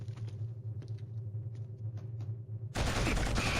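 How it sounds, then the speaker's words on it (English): Shotgun fire in the Killzone video game: a faint hum with scattered soft taps, then a loud, sustained blast of gunfire that fills the final second, no talking. "I think it was a shotgun. I don't think it was a grenade."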